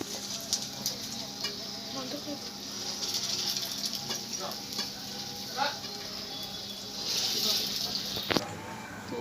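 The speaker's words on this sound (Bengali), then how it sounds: "আবার একইভাবে কটা ভেজে নেবো" Lentil vadas fry in hot oil for dahi vada, a continuous close sizzle and crackle with occasional clinks and stirring taps, growing louder toward the end, and no one talking.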